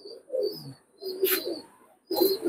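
Teddy pigeons coo in three soft, throaty bursts with short pauses between them, close by, with faint higher chirps in the background.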